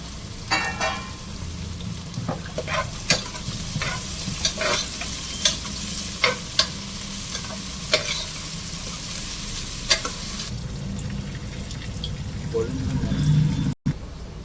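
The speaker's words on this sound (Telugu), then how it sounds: "త్రీ ఆనియన్స్ తీసుకోవాలి పెద్ద పెద్ద సైజు గోల్డెన్ బ్రౌన్ కలర్ వచ్చే వరకు వేయించుకోవాలి వాటిని" Large onions fry toward golden brown in a pan for mutton liver curry, a close, steady sizzle punctuated by repeated sharp spoon scrapes and knocks against the pan, with a brief dropout near the end.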